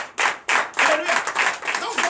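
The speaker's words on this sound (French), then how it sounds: "Donnez l'acclamation à ceux-là." A church congregation claps in acclamation during a night deliverance service, several bursts of loud hand claps in quick uneven rhythm, close and lively.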